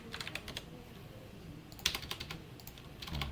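Typing on a computer keyboard during a Python coding lesson, scattered light key clicks in short bursts with quiet pauses, fairly close, over a low background hum.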